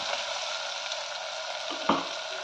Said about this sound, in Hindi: प्याज थोड़ा और भुनेंगे अभी हम प्याज को